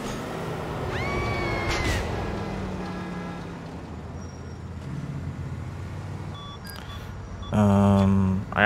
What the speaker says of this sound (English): Just meowing in the background.